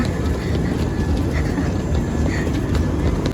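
A passenger train travelling in India, heard from inside as a constant loud rumble and rattle of the carriage, with faint squeals and clatter over the steady running noise.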